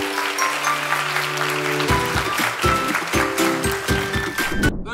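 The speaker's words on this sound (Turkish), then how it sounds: "Öncelikle kocaman bir alkış alalım." A crowd claps for two top-scoring students at an LGS exam prep event, loud and continuous throughout, with tonal sounds and movement mixed in beneath the clapping.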